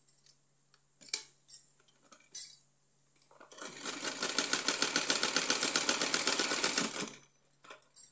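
A sewing machine stitches a cotton dress with an elasticated waist, giving a loud, fast, steady mechanical whir that runs for about three and a half seconds, preceded by a few sharp clicks and handling knocks.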